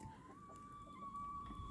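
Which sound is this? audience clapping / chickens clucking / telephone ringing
chickens clucking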